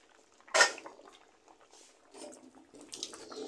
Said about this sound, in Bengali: এখন আমি খিচুড়ির ঢাকনাটা উল্টিয়ে দেখব।